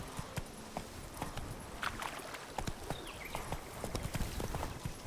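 In The Witcher 3, the horse Roach walks with steady, fairly quiet hoof clip-clops in an even rhythm, backed by a constant ambient wash of game sound.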